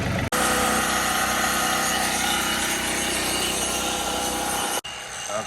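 A tractor's PTO-driven post hole digger runs hard and steady, a loud continuous mechanical drone with a grinding edge, cutting in abruptly, holding level, then dropping off sharply before a quieter tail.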